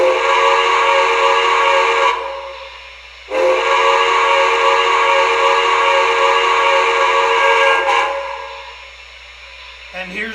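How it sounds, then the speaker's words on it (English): An MTH Premier Empire State Express streamlined Hudson model steam locomotive sounds its whistle in two long, loud steady blasts with a short gap between, then a brief third toot at the end. "here's the whistle"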